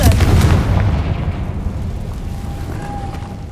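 The Confringo spell in the video game Hogwarts Legacy sets off a loud, deep explosive boom that rolls into a long rumbling decay with a faint ringing tone near the end.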